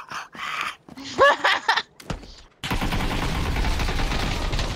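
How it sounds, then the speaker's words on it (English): Machine gun fire in the PUBG battle royale game: voices and sharp noises come first, then a loud, sustained stream of rapid automatic fire runs unbroken to the end. "There's a machine gun behind the tree."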